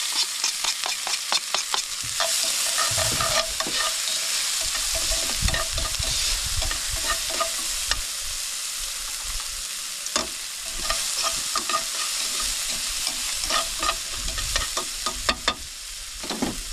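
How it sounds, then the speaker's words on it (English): Garlic and chilli sizzle in olive oil in a pan at a campsite, a steady close frying hiss broken by frequent scraping stirs and clicks of a utensil, with no talking. "cook off the garlic and the chilli"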